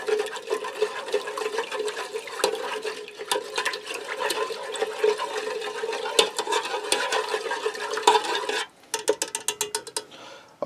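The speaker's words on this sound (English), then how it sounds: "Now I'm going to give that a quick stir to get the soup and the broth combined." A spoon stirs soup and broth in a Ninja Speedi pot, giving a steady close sloshing and scraping swirl of liquid, followed by a series of quick distinct clicks near the end.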